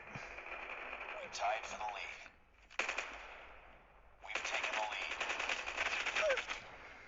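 Sustained automatic gunfire in the mobile shooter Call of Duty Mobile during a team deathmatch, long bursts of rapid shots broken by short pauses, loud and continuous.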